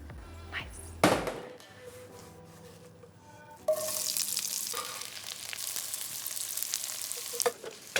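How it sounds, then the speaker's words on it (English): Chopped garlic frying in olive oil in a pan, a sharp knock at the start, then a bright, steady sizzle that swells as it is stirred, with occasional scraping clatters, close and alone. "We're going to give this a little stir"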